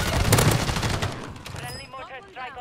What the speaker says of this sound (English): I'm gonna put an airstrike on it